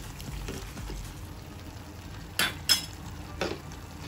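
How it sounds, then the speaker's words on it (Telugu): Masala being stirred into a flat bean and tomato curry in a pan, a soft low sizzle underneath with a few sharp spoon clinks against the pan near the end, close and moderately quiet. "ఒక స్పూను మసాలా వేసేసుకొని కలుపుకున్నాము"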